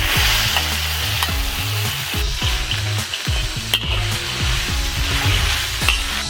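Small river fish fry in a wok, a loud close sizzle running continuously, broken by repeated scraping clatters of a spatula as they are turned, with no talking.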